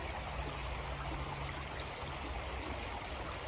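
A creek flows with a steady, close broadband rush and burble that goes on without a break and without voices.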